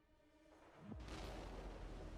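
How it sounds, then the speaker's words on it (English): A single muffled boom erupts in Wizard101, rising suddenly after a quiet musical stretch and lingering as a broad rumble. "They need a better explosion sound"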